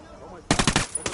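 A rapid burst of automatic gunfire in the video game Ghost Recon Wildlands, loud and close, firing about eight sharp shots in quick succession.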